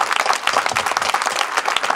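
Brief burst of audience applause at an Italian local election campaign gathering, with close, distinct claps mixed into a lively crowd sound over two seconds.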